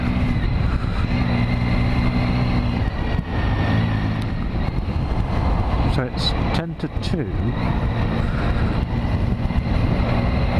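Steady road traffic rumbles nearby, heard from a motorcycle, with cars and motorbikes passing continuously, while someone speaks briefly over the engine noise.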